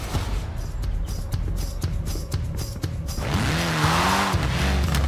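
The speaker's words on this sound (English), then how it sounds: "A spot of rallying in the most British car of them all." A small classic British rally car in Forza Horizon 4 buzzes along with a busy engine and rattling gear changes, then revs higher with rising and falling pitch as the tires scrabble and skid on a loose surface.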